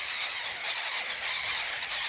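Dense chorus of gulls squawking and screeching at a Mediterranean gull colony on a lake island, calls overlapping continuously and fairly loud with no gaps.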